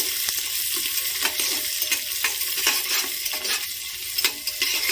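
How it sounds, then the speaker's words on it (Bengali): Chopped onions sizzle in a pan with whole spices for veg pulao, a steady hiss broken by repeated scraping strokes of a spoon stirring them, close and continuous. "পেঁয়াজ কুচি দিয়ে হালকা করে ভেজে নেব পেঁয়াজটা।"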